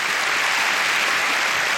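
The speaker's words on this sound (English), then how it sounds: "John, everyone, give him a round of applause" A comedy club audience at a stand-up show breaks into loud, steady applause that fills the whole short stretch with dense clapping and no speech.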